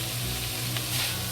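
Vegetables frying in a pan over low heat, a steady close hiss and sizzle running without a break through the short stretch.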